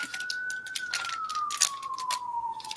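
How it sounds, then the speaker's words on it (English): A single siren tone glides slowly downward throughout, distant, heard through a slightly open window, with intermittent crackling bursts and faint background noise; no talking. "You hear that siren?"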